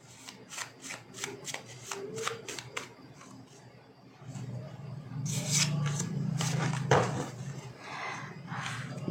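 Tarot cards being shuffled by hand in a quick rhythmic series of riffling flutters, followed by a longer stretch of rubbing, sliding card noise, fairly close and with no one speaking.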